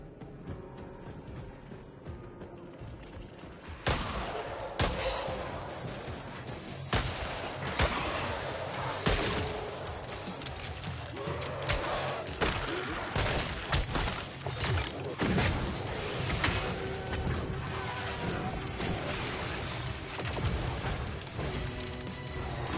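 Turret gunfire in Killing Floor 3, bursts of loud shots and crashing impacts over a din of game noise, irregular and intense from about four seconds onward.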